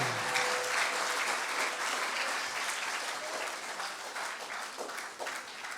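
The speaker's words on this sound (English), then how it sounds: "Clap your hands unto the Lord" Steady clapping from a church congregation at a revival service fills the space, dense and continuous with a few faint voices mixed in.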